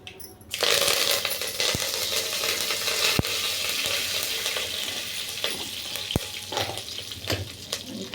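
Curry leaves dropped into hot tempering oil for carrot chutney, a sudden loud sizzle that holds steady and close, with a few sharp clicks of a spoon against the pan.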